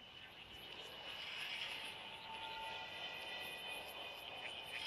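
A small drone hovering in Call of Duty Mobile during a zombie mode match gives a steady, continuous buzzing whine that holds at an even level throughout, with no voices over it.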